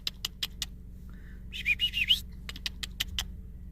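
Birds chirping and calling around a young raccoon said to have rabies, with short sharp chirps repeating, then a brief burst of higher warbling calls midway, fairly close and clear against a quiet outdoor background.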